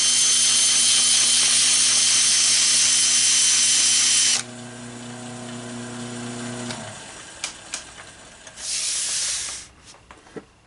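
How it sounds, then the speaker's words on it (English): A loud, steady electric sander whines and hisses for a few seconds sanding an oak bowl, then winds down, followed by scattered knocks and a brief burst of spray-like hiss. "Now I'm going to get my sander out and sand up the bottom."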